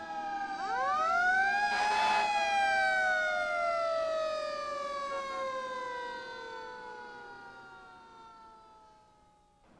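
An emergency vehicle siren winds up to a loud wail, then slowly falls in pitch and fades over several seconds, heard alone.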